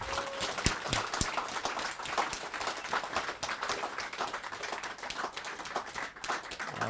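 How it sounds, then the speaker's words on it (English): A memorial gathering gives a round of applause in honor of the deceased, steady dense clapping filling the room throughout, moderately loud with a faint murmur of voices beneath. "Let's do a round of applause in honor of Chad Harris."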